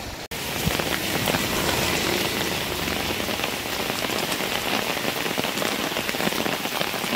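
Heavy rain pours down on a village road to the market with water running along it, a dense, steady hiss that is close and continuous, with only a brief dip near the start.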